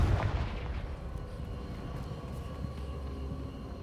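Confringo blast spell in Hogwarts Legacy, a booming explosive burst at the start that decays into a low, rumbling tail.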